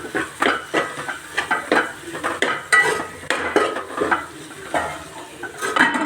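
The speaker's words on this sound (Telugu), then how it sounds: "అల్లం వెల్లిపాయ పేస్ట్ వేద్దాం చలో అలాగే టమాటాలు వేద్దాం ఫ్రెండ్స్ చలో ఇప్పుడు కలుపుదాం" Ginger garlic paste and tomatoes are stirred in a metal pan, with a spoon scraping and knocking against the pan in a steady, loud rhythm over a faint sizzle.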